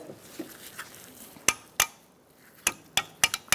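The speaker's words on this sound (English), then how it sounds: "So I have a chisel under there, and I'm going to slowly walk it out." A chisel working a front wheel bearing out of a 2014-2019 Kia Soul, sharp metallic taps and clinks at irregular intervals, several quick strikes near the end, close and otherwise quiet.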